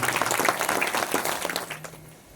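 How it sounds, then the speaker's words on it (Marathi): A crowd applauds the performers at a Marathi kirtan, a dense, steady patter of clapping that holds strong and then thins out toward the end, with no speech over it. "यांच्यासाठी एकदा जोरदार टाळ्या वाजल्या"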